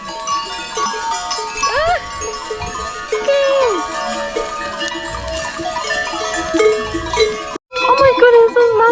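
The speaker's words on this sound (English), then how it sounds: "There's so many goats. I have never seen this many goats in my life." A large herd of goats in the Greek countryside, bleating many times near and far, with bells clanking steadily among them and a person talking over the animals.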